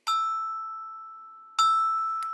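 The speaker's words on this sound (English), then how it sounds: "So I will use usually metallophones and glockenspiels." Two glockenspiel notes, A then E, each a clear ringing metallic strike with a long decay, the second starting about one and a half seconds after the first, followed by a brief extra tap.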